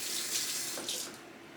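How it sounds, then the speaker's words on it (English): A kitchen tap running steadily as something is rinsed under it while preparing chicken marinades, a bright close hiss of water with brief splashy changes as the flow is interrupted. "I'm going to rinse this quickly."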